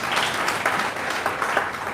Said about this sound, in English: Can you clap for this company here?